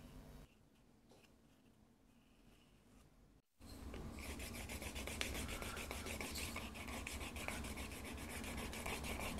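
Leather edges are rubbed to burnish them on a leather strawberry bag: a quiet rubbing at first, a brief pause, then louder, steady, rapid close friction strokes continuing to the end.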